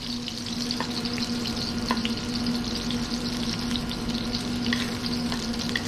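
Eggplant pieces stir-frying cut side down in oil over low heat for Sichuan hot and sour eggplant, a steady close sizzle and bubbling with a constant low hum and occasional soft utensil taps.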